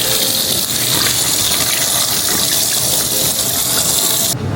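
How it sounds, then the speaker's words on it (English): Tap water gushes loudly and steadily into a sink while raw chicken wings are rinsed under the stream, a close, continuous rush that cuts off abruptly near the end. "I'm gonna take our wings and wash them"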